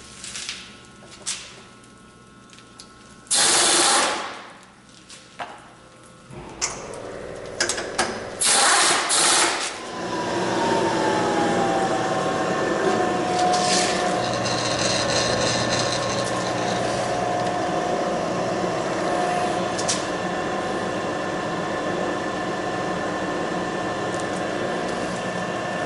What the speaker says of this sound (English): start in the middle and work out and get our bolt holes drilled in this